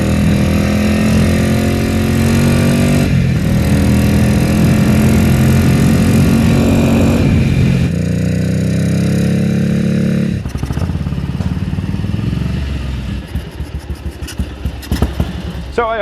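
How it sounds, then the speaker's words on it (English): A 1974 Ducati 750 Super Sport Greenframe motorcycle rides past with a loud, throaty engine roar that rises and falls through gear changes, then eases toward a lumpy idle with clattering mechanical sounds near the end. "So I hope that gives you a good impression of how it is to ride one of these 750 Super Sport Greenframes from 1974"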